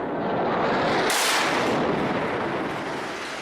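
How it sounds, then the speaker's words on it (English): A barrel bomb explodes in southwest Damascus: a distant, heavy, rumbling blast sounds, then a sudden loud burst of broadband noise that rolls on and slowly fades over a few seconds. "A barrel bombing in the southwest of Damascus in January last year."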